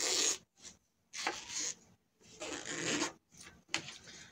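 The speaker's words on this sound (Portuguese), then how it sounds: "Seguro essa parte aqui atrás e puxo o zíper." A zipper on a surgical garment is pulled by hand while sewing, giving several raspy bursts of zipping in quick succession with short pauses between them, close and fairly loud.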